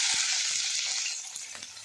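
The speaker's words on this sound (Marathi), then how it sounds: "मोहरी जिरं हे टाकून घेऊया छोट्या चमचनं इथं मी अर्धा चमच मोहरी टाकून घेते लगेच जिरं टाकून घेते अर्धा चमच लगेचच कांदा टाकून घ्यायचा आहे" Mustard seeds, cumin and onion frying in hot oil over a village wood-fired stove, a loud continuous sizzle that slowly eases, with faint crackles and pops scattered through it and no voices.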